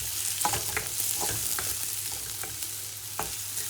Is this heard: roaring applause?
no